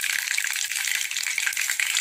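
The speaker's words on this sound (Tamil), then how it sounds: "எண்ணெய் காஞ்சிச்சு, கடுகு, உளுத்தம் பருப்பு, சீரகம் போட்டுடலாம்." Mustard seeds, urad dal and cumin fry in hot oil for an egg gravy, giving a steady, close, dense crackling sizzle with tiny popping bursts throughout and no talk.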